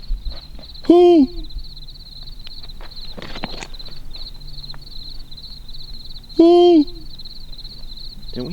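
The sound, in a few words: owl hooting at night near a cave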